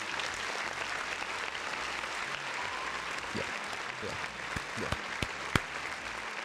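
Applause rings out for chat viewers during a PlayStation podcast livestream, a steady dense wash of clapping that holds for several seconds, with a few sharper knocks near the end.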